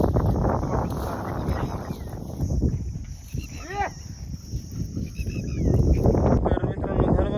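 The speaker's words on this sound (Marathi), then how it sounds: "वारं खूप लय बघा वाऱ्याचा आवाज" Strong wind blows steadily through a farm field during heavy rain, a broad rushing roar that swells and gusts over the whole stretch, with faint voices partly buried beneath it.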